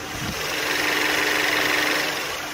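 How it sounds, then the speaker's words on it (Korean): A Mercedes-Benz E-Class gasoline engine idles steadily up close with the hood open, a smooth, even hum with a faint mechanical whir and no voices. "가까이서 엔진 사운드 담아드리도록 하겠습니다"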